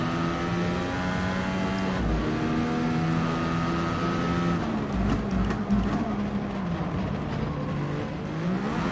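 A racing car engine in the Gran Turismo Sport video game roars continuously, its pitch climbing and dropping as it revs through gears, steady and close with no talking.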